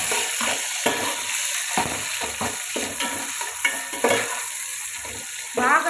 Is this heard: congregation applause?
no